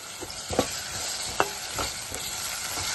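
Ginger garlic paste fries with carrot and tomato pieces in a pan for puri curry, a soft steady sizzle broken by a few spoon scrapes and clinks.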